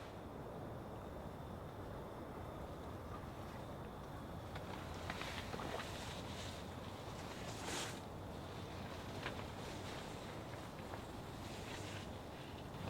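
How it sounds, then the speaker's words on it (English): Wind blows outside a tent at night during a late-night storm, a constant rushing wash with occasional louder gusts flapping against the fabric, fairly faint and steady throughout. "It's windy."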